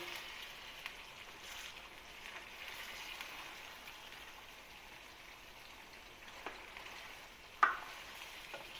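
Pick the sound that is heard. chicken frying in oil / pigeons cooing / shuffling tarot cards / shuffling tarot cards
chicken frying in oil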